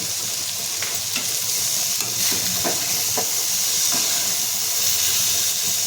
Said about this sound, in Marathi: हे व्यवस्थित आपण परतून घेतलेले याच्यामध्ये आपण मीठ टाकून घ्यायचं आहे